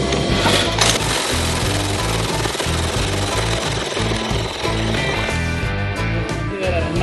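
Air impact wrench hammering against a test gauge, a loud continuous rapid rattling of blows at close range that runs unbroken for several seconds.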